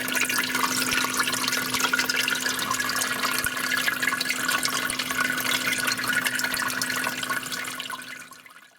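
Water runs steadily through the holes of a 12-pod hydroponics growing system, a constant close trickling and splashing with a faint pump hum, fading out at the end.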